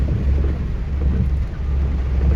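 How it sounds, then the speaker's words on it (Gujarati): Heavy monsoon rain pours down in Savarkundla, Amreli, Gujarat, making a dense, steady hiss with a deep rumbling undertone, loud and close, with no voices over it. "હવે ભયંકર એક તો વરસાદ ચાલુ થઈ ગયો છે"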